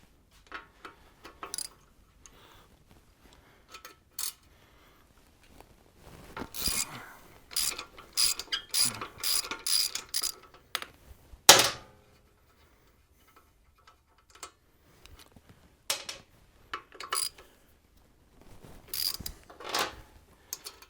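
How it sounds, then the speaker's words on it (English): A ratchet backs out bolts on a Harley-Davidson Sportster or Dyna motorcycle fork, with close, rapid pawl clicking in several bursts of varying length and quiet pauses between them. "And you can remove these 2 bolts."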